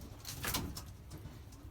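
Belgian racing pigeons coo softly in a loft, a low murmuring burble that swells and fades over a couple of seconds amid faint rustling, moderately quiet and without speech.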